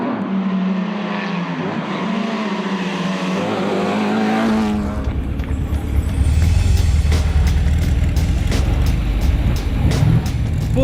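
A Porsche 914-6 races on a timed stage of the Tour Auto 2012 classic car rally. Its engine drones steadily and close, then gives way to a louder, rougher rush of engine and road noise.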